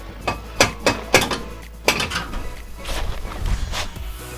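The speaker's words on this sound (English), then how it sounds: "we're going to use this basically as a slide hammer to pull the axle out of the diff center" Slide hammer pulling a car axle out of the differential: a series of sharp metallic clanks and knocks, several spaced impacts early then a looser rattling jumble of metal.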